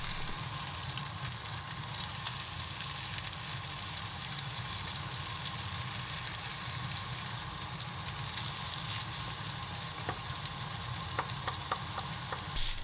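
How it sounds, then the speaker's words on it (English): Hamburg steak patties fry in a little oil in a pan over medium-high heat, giving a continuous close sizzle and crackle with a few light clicks near the end. "arrange them in a pan with a bit of oil over medium-high heat"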